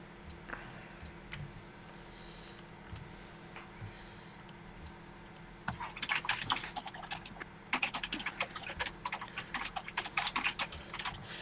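Rapid clattering keystrokes on a computer keyboard during a Civilization 5 multiplayer match, starting quietly and turning into dense, busy bursts of typing over the second half, close and fairly loud over a steady low hum.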